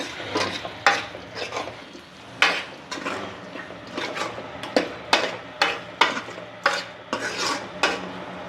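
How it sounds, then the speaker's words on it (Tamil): A salted prawn and chow chow curry is stirred in a pan, with a spoon scraping and clanking against the metal in a rough rhythm of about a dozen knocks over a soft sizzle, close up and with no voices. "உப்பு போட்டு நல்லா மிக்ஸ் பண்ணிக்கலாம்"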